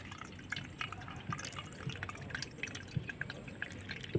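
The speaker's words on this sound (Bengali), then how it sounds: "আমি ঠান্ডা জল দিয়ে ভালো করে ধুয়ে নেব" Chhana cheese being rinsed under cold water, heard as a soft, steady trickle of running water with faint intermittent drips and splashes, quiet and close, without talk.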